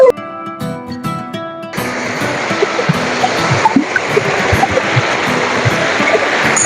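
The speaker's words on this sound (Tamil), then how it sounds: "இது வந்து செகண்ட் ஃபால்ஸுங்க." Water rushes steadily down the second falls of RannaGala Waterfalls in Sri Lanka, running low this season; a brief musical tone opens before a dense, constant roar of flowing water takes over.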